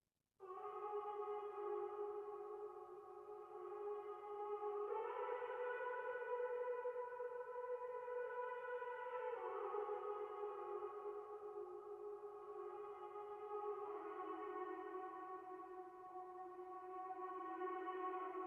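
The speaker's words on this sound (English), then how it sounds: "I chopped up this little vocal sample by flipping it around, reversing it in some spots." Chopped, partly reversed vocal sample for a smooth R&B beat, processed with EQ and Viola Vintage Verb: sustained harmonic vocal tones that shift pitch in blocks every few seconds, washed in reverb, played alone at a low level.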